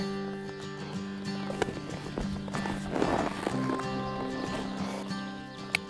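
Horse ridden during a groundwork and riding lesson, hooves thudding in an irregular steady rhythm under a constant tonal background hum, with a few sharper knocks standing out, moderately near.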